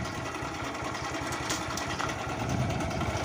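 A Honda CBR150R motorcycle idling in gear with the clutch released, the bike not moving; a fast, even engine patter, loud and close, with no voices.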